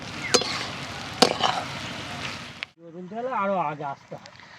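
Bhetki fish bones stir-fry in a pan, giving a dense, close sizzle with sharp scraping clicks for about two and a half seconds, then a voice takes over.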